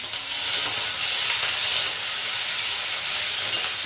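Potato and yardlong bean curry sizzles steadily in a pan, a bright, even hiss of frying that stays close and constant throughout with no talking.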